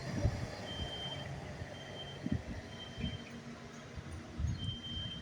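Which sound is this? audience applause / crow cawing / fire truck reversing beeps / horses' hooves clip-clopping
fire truck reversing beeps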